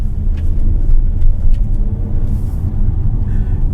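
A Hyundai Custin minivan with a 1.5-litre turbo engine under way, a loud, close, steady engine drone and road rumble with slight surges, no talking.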